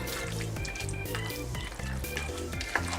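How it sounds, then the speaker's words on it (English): Chicken pot pie gravy mixture bubbles and sizzles in a pot, with a steady soft crackle, occasional pops and light liquid movement. "bring it to another bit of a simmer"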